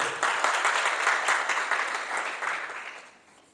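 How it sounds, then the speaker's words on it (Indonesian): A church congregation claps for God during a sermon, a moderate wash of applause that holds for a few seconds and then fades away. "Boleh dong tepuk tangan untuk Tuhan"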